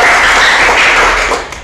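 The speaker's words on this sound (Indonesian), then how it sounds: "Tepuk tangan untuk Pak Suko" A short, dense burst of audience applause at a Surabaya event, a steady wash of clapping that fades slightly at the end.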